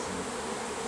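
Honeybees buzzing at a bee farm, a steady close drone of many docile insects that holds without a break through the short moment.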